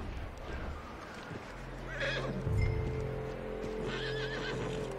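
A horse in the video game Red Dead Redemption 2 whinnies twice amid clip-clopping hooves and game ambience, the neighs rising clearly over a low rumbling background.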